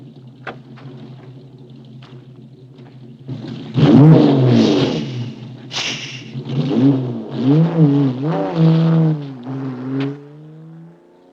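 A car pulls away at night, its engine rising from a low idle into a loud, revving burst that climbs through gear changes before fading off.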